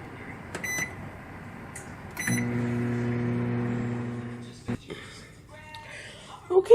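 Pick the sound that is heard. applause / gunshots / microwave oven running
microwave oven running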